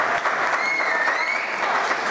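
A live audience claps for a singer named James at a CD performance event, steady, dense applause filling the whole moment without a break.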